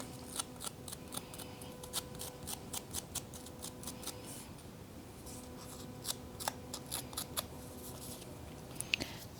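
A paper banner for a handmade card being roughed up and distressed: a steady series of crisp, quick scraping and snipping strokes, close and fairly quiet, with no talking.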